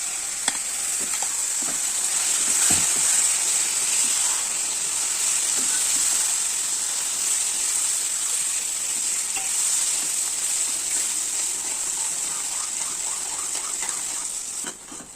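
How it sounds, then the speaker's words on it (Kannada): Chutney ingredients fry in a pan with a spoonful of turmeric powder added, giving a steady, bright sizzle that runs unbroken throughout, with occasional soft stirring scrapes and no voices. "ಇದನ್ನು ಚೆನ್ನಾಗಿ ಫ್ರೈ ಮಾಡಿಕೊಂಡ ನಂತರ ಇದಕ್ಕೆ ಸ್ವಲ್ಪ ಅರಿಶಿನ ಪುಡಿ, 1 ಸ್ಪೂನ್ ಅರಿಶಿನ ಪುಡಿಯನ್ನು ಹಾಕಬೇಕು"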